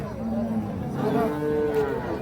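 A Holstein Friesian cow at a busy cattle market lets out a long, loud moo that swells and holds, with faint crowd chatter in the background.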